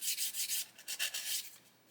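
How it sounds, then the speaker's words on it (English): A sanding stick rubs back and forth over plastic parts of an Airfix 1/72 Lancaster B.III Dambuster model kit, giving quiet, close, rhythmic scratchy strokes that fade toward the end. "with a sanding stick we can just come along and sand all that away"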